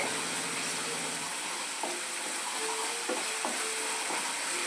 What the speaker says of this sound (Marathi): समदे मसाले आपले छान असं आता परतून घ्यायचे आहे तेलामध्ये